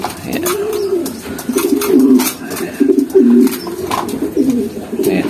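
Racing pigeons in a loft coo in repeated low, rolling phrases, several birds close by, with faint chirps and light rustling and clicks scattered around them and no talking.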